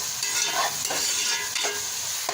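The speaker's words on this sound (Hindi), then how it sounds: "अदरक लहसुन को इतना भूनना चाहिए कि इसकी स्मेल ख़त्म हो जाए" Ginger garlic paste fries in a pan for pea pulao, a loud, steady close sizzle with a few soft stirring scrapes, no talking.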